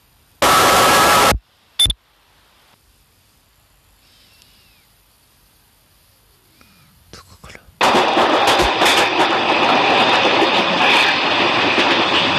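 A voice drama effect of a train running at about 140 km/h: after short loud bursts and a near-silent stretch, a dense, continuous roar of rushing wheels and wind sets in and stays loud to the end.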